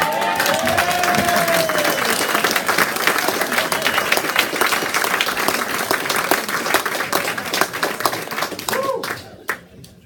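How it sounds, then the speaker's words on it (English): Audience at a poetry event breaking into loud, sustained clapping, dense and close, with a few voices briefly rising over it before it tapers off near the end. "Can we clap again?"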